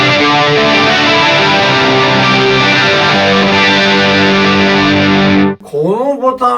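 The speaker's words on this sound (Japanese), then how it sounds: "ギターがコーラスかかって" An electric guitar played through a TONEX Plug with a chorus effect placed before the amp, sounding as loud sustained distorted chords with a shimmering wash, then cutting off as a voice starts speaking at the end.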